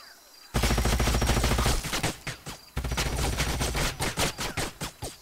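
Sustained gunfire crackles in the video game Age of Wonders Planetfall, a loud rapid stream of shots that breaks off briefly and then resumes as a string of separate heavy blasts, with no other sound over it.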